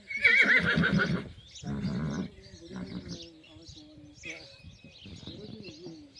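A mare whinnies loudly up close, a high wavering cry, followed by snorts and softer animal and bird-like calls with some background murmur.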